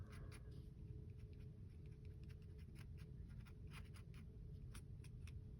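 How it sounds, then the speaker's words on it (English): Scissors scrape dried paint texture off a junk journal page in quick, light, scratchy strokes. The scraping sounds faint and steady over a low background hum. "I'm just scraping some of it off."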